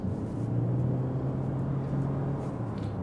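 A 2025 Toyota C-HR hybrid hums low and steady from inside the cabin while driving, with a soft road rumble and no voices.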